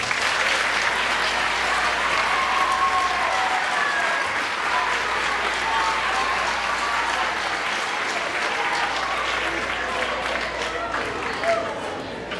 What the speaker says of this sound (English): So join me in a big round of applause for the director, Mr. Stephen Cole.